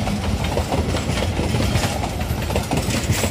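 A passing panoramic passenger train, the Taksaka Tambahan, rumbles steadily and loudly close by, with dense broadband roar and faint rhythmic wheel clatter throughout.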